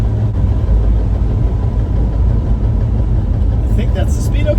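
A 1968 Dodge Dart sedan's engine runs with a loud, steady low rumble from inside the car, continuous throughout, with a short voice near the end.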